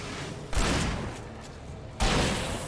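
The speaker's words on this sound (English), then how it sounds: "Oh, this shotgun seems to suck." Two heavy shotgun blasts in Alan Wake Remastered, each a sudden loud boom followed by a lingering roar, spaced about a second and a half apart with no talk.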